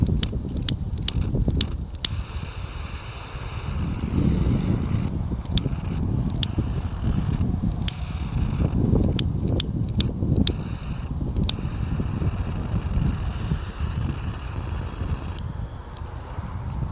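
Gusty outdoor wind buffets a microphone while a cigar is smoked, a loud, steady low rumble running throughout with a few sharp clicks scattered over the top.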